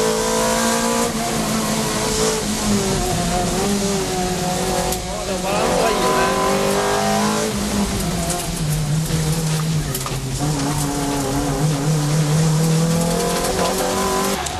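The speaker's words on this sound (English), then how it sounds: "The engine, a Celica 190-horsepower 2ZZ-GE." A Toyota Celica race car with a 190-horsepower 2ZZ-GE engine runs hard on a mountain touge road, revs rising and falling through gear changes with occasional tire squeal, loud and close, while people talk over it.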